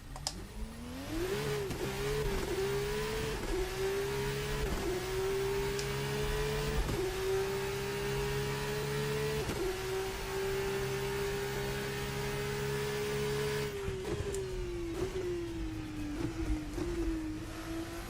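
IndyCar engine in the iRacing sim, working through low-speed corners; a sustained buzzing engine tone that rises and falls with throttle and shifts, steady and close, with brief dips and gear changes along the way.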